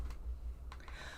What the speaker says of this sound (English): let me get this keyboard off my lap